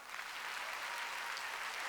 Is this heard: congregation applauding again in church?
yes